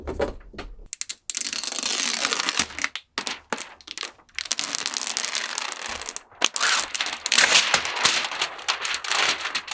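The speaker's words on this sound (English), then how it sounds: "the most satisfying and biggest piece of foil I ever peeled off" Protective foil is peeled off a large TV screen, producing a long, loud crackling tear interrupted by short pauses, close up and with no talking.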